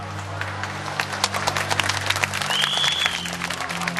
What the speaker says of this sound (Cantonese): 從現場嘅掌聲知道大家係好